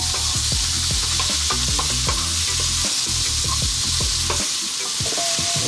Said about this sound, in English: We're keeping this on a nice high heat. We're going to get all this garlic, and there's quite a lot there, like I say, and the onions cooked for about 3 minutes.